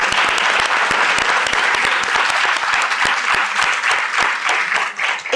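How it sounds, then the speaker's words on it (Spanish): Dense, steady audience applause at a book presentation in Oviedo, many hands clapping loudly and continuously with sharp individual claps standing out, no voices over it. "Pido un aplauso para ella."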